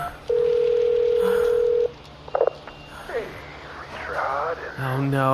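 A phone call rings out with a long steady tone of about a second and a half. It breaks off into quieter rustling, and people then talk over a faint background hum.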